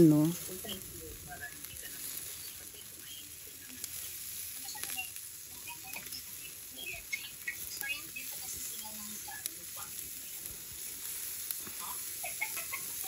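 Filipino-style pork barbecue sizzles and crackles faintly on a grill, with scattered small pops over a steady low hiss throughout.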